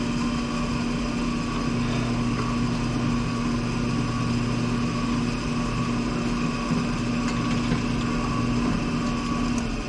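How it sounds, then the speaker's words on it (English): A small drill press chamfers a drilled pilot hole for a cricket cage, its motor giving a steady, close whirring hum with a faint cutting tone underneath and no talk. "I'll move to the little press over here and put a chamfer on it."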